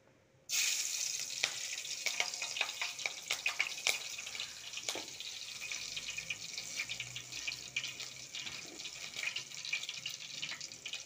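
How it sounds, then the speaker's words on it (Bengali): Green chillies hit hot oil with a sudden, hissing sizzle that continues steadily and close, dotted with small crackles and pops and no talking. "তেলটা গরম হয়ে গেছে এবারে আমি এখানে কাঁচা লঙ্কা দিচ্ছি"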